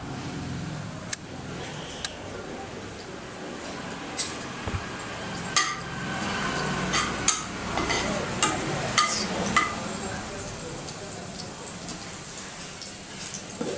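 Mustard seeds, cumin, urad dal and curry leaves sizzle in hot oil for an Andhra capsicum fry. A soft continuous frying hiss runs under scattered sharp pops and crackles.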